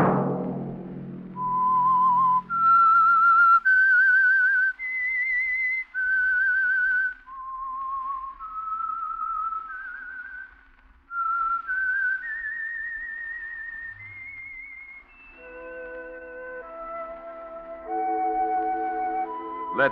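A signature whistled tune from a Signal Oil-sponsored mystery radio drama, a lone melodic whistle wandering up and down in clear phrases, steady and fairly loud, with a chord joining near the end.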